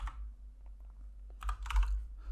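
Keys clatter on a computer keyboard while coding an HTML and CSS countdown timer, sparse clicks at first, then a quick close burst of typing over a low steady hum.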